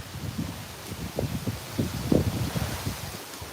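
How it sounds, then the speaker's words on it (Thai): Strong wind gusts through the leaves of a large takhian tree at a Thai temple, with rough microphone buffeting and uneven rustling swells from start to finish, and no talk. "ลมแรงมากเลยครับ"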